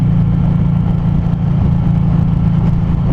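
A 2019 Suzuki M109R cruiser motorcycle pulls away from a stop sign, its engine droning loud and close with a steady low rumble throughout, slightly uneven as the rider works the clutch.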